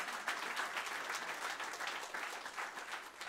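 A church congregation applauds during a French-language Sunday worship service, a dense, steady wash of clapping from many hands that holds at an even level throughout with no talk over it.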